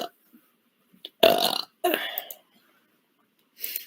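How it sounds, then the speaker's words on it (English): A human belch, or a bladder that sounds just like one, comes in two loud bursts in close succession, followed after a pause by a shorter third burst, each standing alone against silence. "I might have some kind of bladder that sounds like a human belch"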